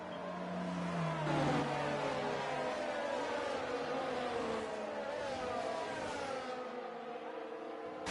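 F1 race cars in a racing video game, engines whining and shifting pitch as they drive, a rising rev early on and then a steady moderate drone with no speech.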